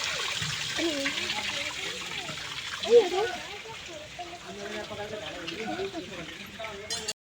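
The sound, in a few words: water gushing out of a Farmtrac 6055 tractor tyre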